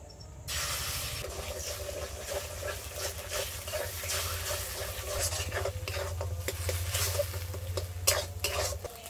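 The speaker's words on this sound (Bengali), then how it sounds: "আর আমি এই ডিমটা পুরো ঝুরো ঝুরো করে ভাজবো।" Scrambled egg frying in a pan, crumbled fine while cooking, a steady hissing sizzle broken by frequent scraping and clattering strokes of a spatula against the pan, close and lively.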